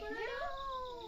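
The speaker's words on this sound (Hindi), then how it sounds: "बिल्ली बोल रही" A cat in a Pahadi village home gives a single short, rising-then-falling meow, close and clear, alone without talk.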